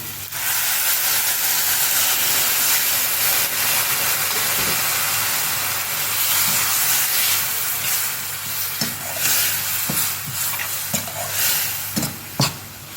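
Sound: water added to frying tomato masala, hissing

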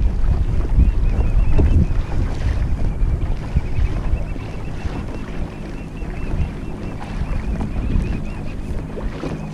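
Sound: boat passing a kayak on the water

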